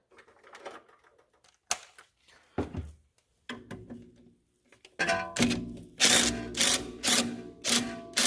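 A wrench loosening a bolt on car suspension during a coilover install gives scattered metallic clicks and knocks, then a run of rapid, loud, repeated ratcheting bursts up close.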